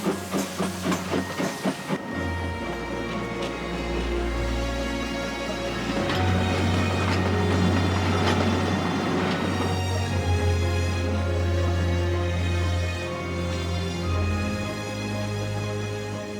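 A steam locomotive on the Isle of Wight Railway gives off a loud, sustained hiss over a deep rumble, with a quick run of rhythmic clicks at the start before the steady roar takes over.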